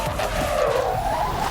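Tires squeal in a sustained, loud skid as a car slides through a handbrake turn in the racing video game Blur, engine roar underneath throughout.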